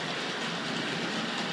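Tri-ang and Hornby Dublo model trains run on their tracks, giving a steady, loud, dense rolling whir and rattle of small wheels, continuous and without any voices.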